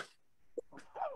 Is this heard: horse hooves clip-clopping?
no